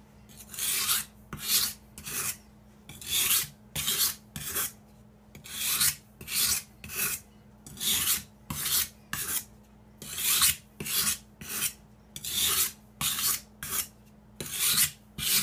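A steel knife blade rasps across a fine grit sharpening stone in steady back-and-forth strokes, each pass a crisp scraping burst in an even rhythm, close and alone.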